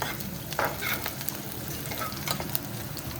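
Onions and dried chilies fry in a pan with cumin and mustard seeds, giving a steady close sizzle with occasional stirring scrapes, alone without talk.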